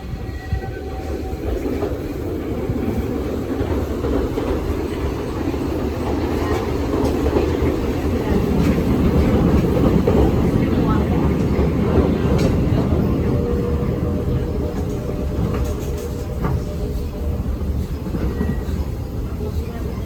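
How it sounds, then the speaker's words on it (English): The Walt Disney World Railroad train rolls along behind locomotive #1 Walter E, a steady rumble and rattle of wheels on track heard from onboard, swelling in the middle with faint squeals above and voices in the background. "already know how much I love riding this train"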